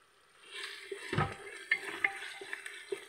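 A utensil scrapes and stirs vegetable pulao frying in a pressure cooker, with a soft sizzle underneath and several sharp knocks and scrapes spaced irregularly across a few seconds.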